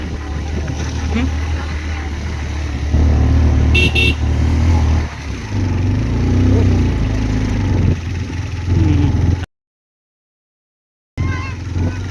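A motorbike strains up a steep, dusty road toward a hilltop temple, its engine droning loudly and steadily with shifting load. Brief honks or tones cut through, and the sound drops out entirely for a moment before the engine returns.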